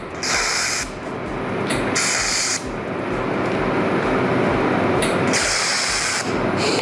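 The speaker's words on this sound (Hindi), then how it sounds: "स्पॉट वेल्डिंग का प्रोसेस यूज़ करके इस मशीन से हमने इस पर दो जगह हल्के से टाँके मार के देखे हैं" Spot welding two 1.2 mm stainless steel pieces with a laser welding machine gives short bright hissing bursts over a constant loud machine hiss and hum, two pulses early, then two more near the end.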